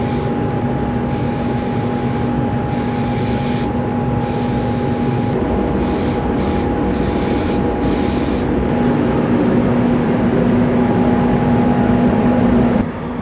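Spray gun painting a part of a 1987 Honda CR500 motorcycle with heat paint, a loud steady hiss running almost without a break in close bursts, with short pauses near the start and a steady tone underneath.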